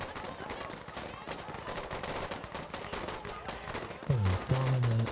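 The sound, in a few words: gunfire in a Battlefield video game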